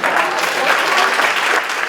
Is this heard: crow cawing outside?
no